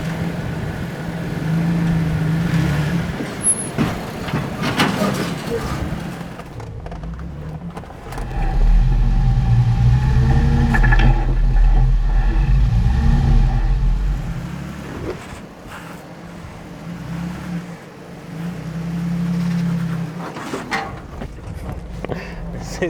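A Jeep with ARB air lockers front and rear crawls up a rocky off-road trail obstacle, its engine rumbling and rising under load while someone talks over it and rocks clunk beneath the tires.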